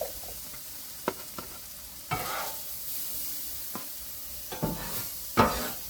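Homemade hibachi stir-fry sizzles steadily in a pan, with a spatula scraping and knocking against the metal every second or so.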